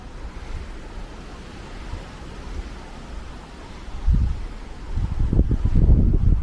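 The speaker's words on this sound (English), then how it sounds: "I do apologise if there's any wind noise, guys. The wind's kind of picked up" Wind buffets a microphone in an abandoned graveyard with a steady low rumble that swells into heavier gusts toward the end, loud and close.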